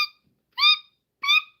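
Pet lovebirds give three short, shrill, screechy chirps, each a clear separate burst with quiet gaps between, close and fairly loud.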